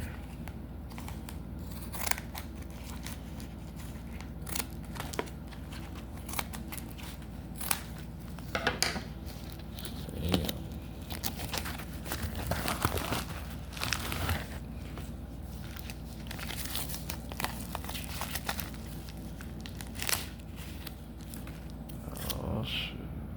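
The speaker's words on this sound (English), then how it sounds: "Cut it from right here." Scissors snip through a mystery trading-card package, with crunchy cutting and crinkling plastic under a steady background hum, close and moderately loud.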